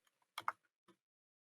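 A handful of scattered computer keyboard keystrokes, close and fairly quiet, with a tight cluster of two louder taps in the middle and a single tap after a short pause, then silence.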